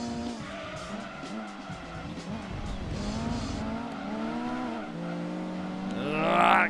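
Race cars in the Gran Turismo 2 video game, a touring-car Ford among them, scream past with layered engine whines rising and falling, tires squealing and skidding, and a louder surge near the end.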